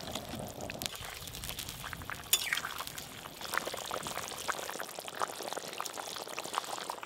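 Katla fish curry with cauliflower, potato and chopped tomato bubbling steadily in a pan, a continuous close hiss and gurgle of boiling broth with small pops and a brief clink partway through.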